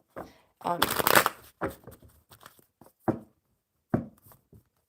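A deck of playing cards is shuffled at a tabletop, heard as a quick riffling burst followed by several separate flicks and taps, close and fairly soft.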